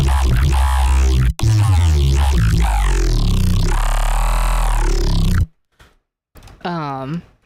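A loud, buzzy wavetable synthesizer tone, with slight FM and a notch filter sweep giving a shifting vowel-like sound, morphing continuously, then a pause and a shorter repeated note.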